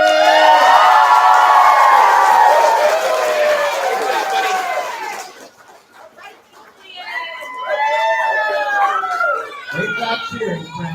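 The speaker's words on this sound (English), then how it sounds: "Great job cheering, friends." Children at a kindergarten-to-second-grade school assembly cheer loudly and excitedly in a hall, a bright chorus of young voices that dips briefly before swelling again, with a burst of noise near the end.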